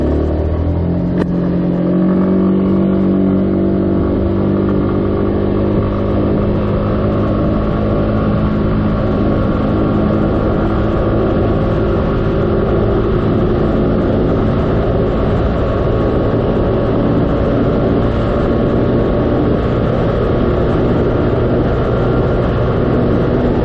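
A SYM 300 Cruisym scooter engine runs steadily and loudly throughout, its idle hum holding a constant pitch with a slight rise near the start.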